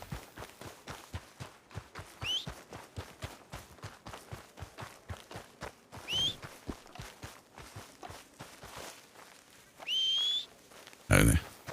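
A person whistles three short rising calls to summon a horse, spaced a few seconds apart over steady footsteps crunching along outdoors, with brief voices and a loud burst near the end.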